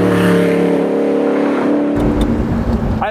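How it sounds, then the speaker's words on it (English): A Spyker C8 exotic sports car's exhaust note under a light touch of throttle: a loud, close engine drone that swells into a brief rev near the end, with no voices. "just a little bit of throttle gives you that exhaust note."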